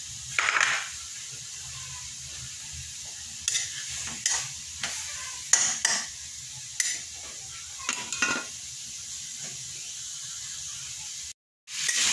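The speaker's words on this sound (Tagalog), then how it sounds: "piprito mo natin sa sarili niyang mantika" Pork meat and fat fry in their own rendered fat, a faint constant hiss under intermittent sharp spatula scrapes and stirring bursts, close by, with a brief dropout near the end.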